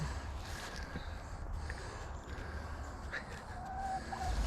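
Chickens on a homestead clucking softly in the background, faint scattered calls over low outdoor rumble and wind.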